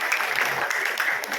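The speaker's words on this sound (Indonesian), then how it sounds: "Tepuk tangan untuk Ibu Bapak sekalian." An audience at an education seminar in Purwakarta claps steadily, a dense, even patter of many hands filling the room without pause, with no speech over it.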